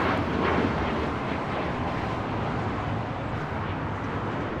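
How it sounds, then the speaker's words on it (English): United Airlines Boeing 737 MAX 9 taking off at LAX, a loud continuous jet engine roar with a broad rushing rumble, steady and close, with no talk over it. "is United Airlines 1621 taking off to Orlando on a MAX 9"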